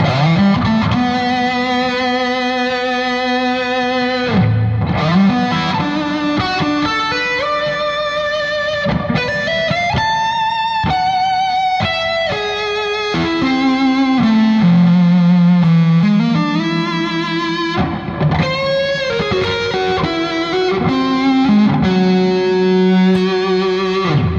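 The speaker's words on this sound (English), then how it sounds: "little bit of reverb, or actually a lot of reverb." A heavily distorted electric guitar through a Gjika Mini Amp EL84 power tube distortion pedal plays sustained lead notes and bends, washed in long reverb, loud and continuous.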